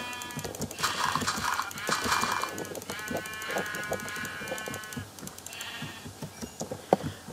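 Sheep in a video game bleating several times in quick succession, close and clear, over a busy textured background with faint talk.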